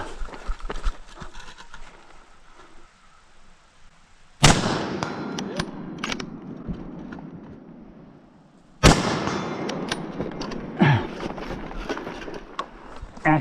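Two loud gunshots crack at an outlaw two-gun shooting match, the first midway and the second about four seconds later, each followed by a ringing tail over outdoor background noise.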